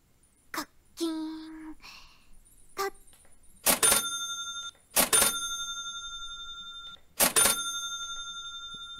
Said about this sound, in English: Trying to make that cash register ring